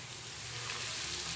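Smoking-hot oil with fried garlic is poured over chillies for a chilli pickle, setting off a brief, dense, close-up sizzle that holds steady without any talking.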